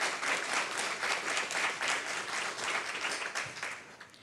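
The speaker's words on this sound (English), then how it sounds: "If you all could give me a round of applause for these 53 folks." Sustained applause from an audience at a school board meeting, steady dense clapping throughout, moderately loud with no speech over it.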